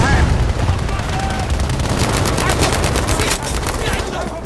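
Dense, continuous automatic gunfire in the Battlefield V video game, a loud, steady rattle of rapid shots running the whole way through with faint background noise.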